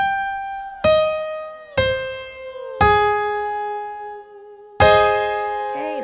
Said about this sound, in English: If you're doing puffy cheeks, it's going to sound like this.